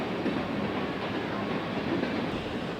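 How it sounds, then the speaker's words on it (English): A South Shore Line passenger train rolls along the Monon Corridor, a loud, continuous rumble of wheels on rail with a steady mechanical drone throughout. "we finally get a glimpse of the first Monon Corridor revenue train"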